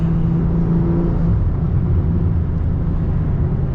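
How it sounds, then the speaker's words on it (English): Loud, deep exhaust rumble from a BMW M340i fitted with a catless downpipe, heard from inside the car as it drives, a steady low drone throughout with no talking. "Riding in the M340I."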